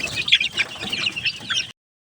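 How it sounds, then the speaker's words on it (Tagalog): Hens and roosters at a chicken farm clucking together, a busy overlapping flurry of short calls, close and steady, with no talk. "Ito yung mga inahin at saka tandang lang talaga."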